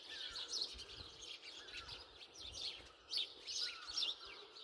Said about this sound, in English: The wee birdies.